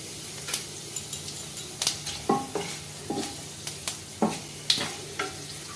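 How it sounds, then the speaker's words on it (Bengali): Dried red chillies and black cumin frying in hot mustard oil, a quiet sizzle broken by a series of sharp spatula taps and scrapes against the pan, close and without speech. "তেলটা গরম হয়ে গেলে আমি দেব শুকনো লঙ্কা আর দেব কালো জিরে"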